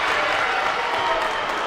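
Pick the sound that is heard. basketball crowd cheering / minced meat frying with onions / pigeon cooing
basketball crowd cheering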